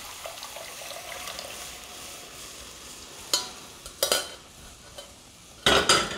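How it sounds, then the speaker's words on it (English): A spoon stirs cool milk into a hot roux in a pan, scraping the sides and bottom while making a bacon mac and cheese sauce; a soft, steady wet stirring with a faint sizzle and a few sharper scrapes near the end. "Give it a mix. Incorporate everything in. Scrape the sides, scrape the bottom of the pan"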